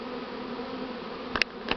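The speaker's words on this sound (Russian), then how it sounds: "Много молодой пчелы." A swarm of young Buckfast bees hums with a steady, close buzz, with a few sharper clicks or knocks near the end.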